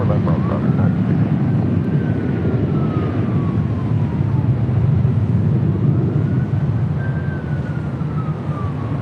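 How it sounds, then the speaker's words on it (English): A UPS cargo plane lands at LAX, its jet roar a loud, steady rumble throughout with a faint rising and falling whine, and a voice speaking over it. "UPS landing on the north side"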